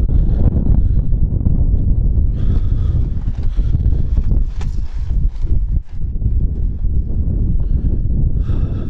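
Strong gusting wind outdoors during a countrywide windstorm, roaring and buffeting the microphone continuously at high level, with scattered knocks and rustles but no speech.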